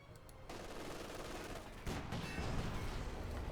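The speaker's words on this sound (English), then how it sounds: "Puma then takes a few hits of the anti-tank rifles" Rapid anti-tank rifle fire hitting a Puma armored car in Company of Heroes 2, a dense crackling volley of shots that swells sharply partway through, with no talk.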